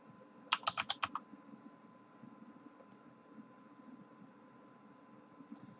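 Username typed on a computer keyboard: a quick run of about six close, crisp key clicks, then a couple of isolated taps over a faint fan hum.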